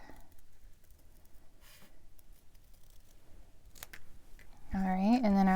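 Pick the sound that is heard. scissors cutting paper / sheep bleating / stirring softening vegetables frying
scissors cutting paper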